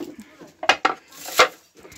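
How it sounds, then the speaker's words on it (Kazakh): Clean dishes and plates being picked up in a kitchen give a few sharp, separate clinks and clatters close by, with faint voices in the background. "Ішінде өте көп тап-таза ыдыстар."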